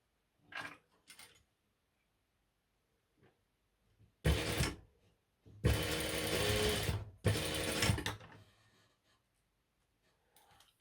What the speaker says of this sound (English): we're going to sew along this edge with a 3/8 inch seam allowance, 1 centimeter